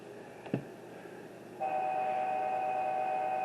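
A DCC sound-equipped model train locomotive sounds a muffled horn after a brief click, holding a steady, dull tone for about two seconds, close and moderately loud with no voices.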